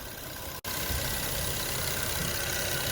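A 2009-2013 Infiniti G37 engine idles after a cracked radiator hose repair, a steady, even rumble close by, broken only by a split-second dropout early on.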